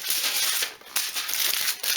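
Thin household aluminium tin foil crumpled by hand into a small ball, a close, steady crackling crinkle that runs for about two seconds with a brief dip partway through.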